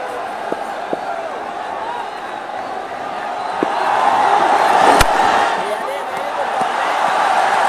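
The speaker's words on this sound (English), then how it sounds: "Every dot ball cheered to the hilt." A large evening cricket crowd cheers a dot ball, a broad roar of voices swelling midway and staying loud, with a sharp knock and scattered claps in the mix.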